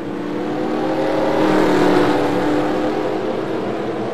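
Race cars rolling off at the start of a race at Thornton, a steady, broad engine roar that swells slightly in the middle and holds at a moderate distance, with no voices.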